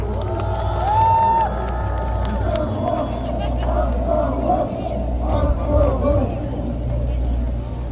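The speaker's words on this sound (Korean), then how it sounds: "여러분 연대 박수로 모시겠습니다" A crowd at an outdoor civic rally cheers and makes noise to welcome citizen speakers, a dense, loud, steady wash of voices over low rumble that lasts throughout.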